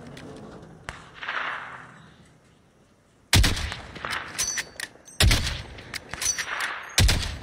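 Sniper gunfire in Call of Duty: sharp, loud rifle cracks arrive in a few bursts after a quiet stretch, each followed by brief echoing tails and smaller impact sounds.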